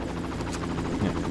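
A helicopter in the video game Far Cry, its rotor chopping loudly and close in a steady rhythmic thrum, heard alone for a brief moment.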